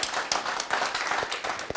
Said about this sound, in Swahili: pigeni makofi ndugu zangu kwa kuja